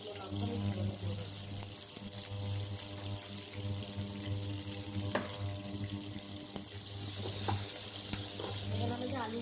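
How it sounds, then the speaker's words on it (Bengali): Panch phoron, a bay leaf and a dried red chilli sizzle in hot oil for a Bengali prawn curry, a steady close crackle with a low hum beneath and a few sharp clinks of utensils. "পাঁচফোড়ন দিয়ে দেবো, একটা তেজপাতা দিয়ে দেবো, একটা শুকনো লঙ্কা আমি ফোড়নে দিয়ে দেবো।"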